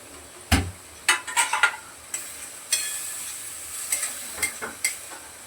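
Capsicum frying in a pan while being stirred, a soft hiss broken by a series of sharp metallic scrapes and clinks of a spoon against the pan, close and irregular.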